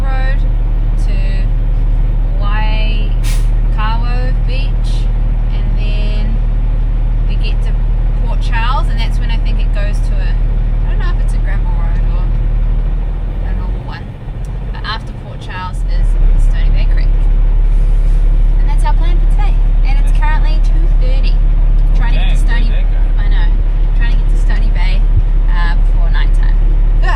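A Unimog truck rumbles along a gravel road with a steady low engine drone and tyre crunch, a brief dip midway, while people talk over the noise throughout.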